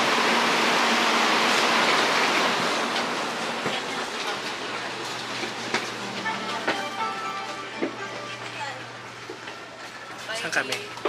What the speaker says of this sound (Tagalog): we're going to ride the high-speed train for the first time in our life